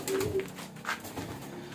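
A single pet pigeon coos close by, a brief low throaty burble from a loft of black-tail and red-tail birds.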